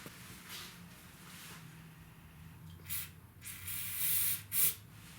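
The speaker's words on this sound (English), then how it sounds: "let's try a little bit of starting fluid and see if that helps any" Starting fluid is sprayed into the engine of a Honda Elite 150 Deluxe scooter under restoration: short hissing aerosol bursts, the loudest two near the end, over a quiet background.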